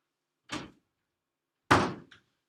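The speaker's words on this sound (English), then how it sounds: "That was the door again." A door in a radio play, heard as two sharp thuds, a lighter knock-like hit followed by a louder slam, each isolated against silence.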